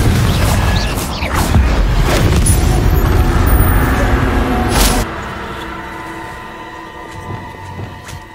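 Confringo fire spell blast in Hogwarts Legacy, a loud booming explosive burst with crackling debris amid dense game combat noise, fading into a quieter rumbling ambience after about five seconds.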